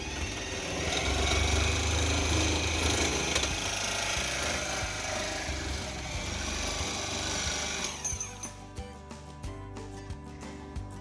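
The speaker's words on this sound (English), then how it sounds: "once we cut all these to length, we'll then cut these to length and then mount it up" A 7/16 all-thread rod is cut to length with a power tool: loud, continuous harsh grinding for about eight seconds, then the tool winds down in a series of fading bursts.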